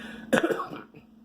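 A single sharp cough bursts out close to the mic, trailing into a brief rasp, with a quiet room hum around it.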